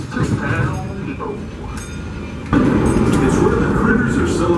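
Riding aboard the Disneyland Railroad steam train, a steady close rumble of rolling wheels and carriage noise that grows louder midway, with a voice talking over it.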